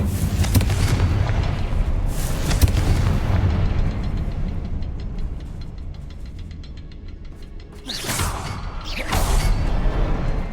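In Hogwarts Legacy, the Confringo fire spell bursts in a string of deep booming explosions, loud and close, with a quieter rumbling gap before two more heavy blasts near the end.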